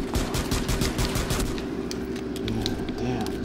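Rapid gunfire in the Rainbow Six Siege shooter game rattles in dense, continuous bursts over a steady low hum, loud and near, with a player talking over it.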